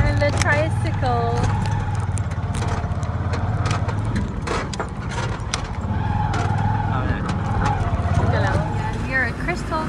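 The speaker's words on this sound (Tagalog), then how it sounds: "We are on the tricycle." Steady engine drone of a motorized tricycle ride in Boracay, continuous and fairly loud throughout, with people chatting over it.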